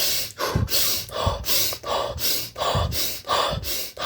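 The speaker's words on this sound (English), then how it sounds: "hyperventilation with breath holds at the end" Rapid, deep hyperventilation breaths in a steady rhythm, each loud whooshing inhale and exhale close up, about seven cycles with no talking.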